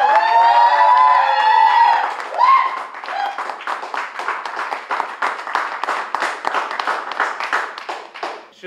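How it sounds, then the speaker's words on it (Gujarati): A studio audience at a Gujarati talk show cheers with loud whoops and hooting, then breaks into sustained, dense applause that continues to the end. "જોરદાર તાળીઓ અને જોરદાર હુટિંગ સાથે"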